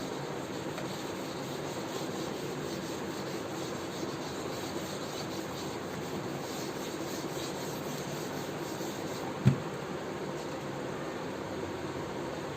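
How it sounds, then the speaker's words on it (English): A classroom board is wiped with a steady, even rubbing hiss that runs the whole time, with one brief knock near the end. "I'm rubbing the board."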